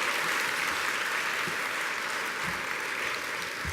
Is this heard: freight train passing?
no